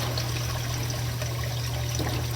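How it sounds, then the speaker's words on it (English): A protein skimmer running in a saltwater aquarium, churning out thick bubbly foam: a steady, loud rushing fizz of water and bubbles with a low constant hum beneath, unbroken and with no voices. "I'm just going to put this protein skimmer on top. It's going to town."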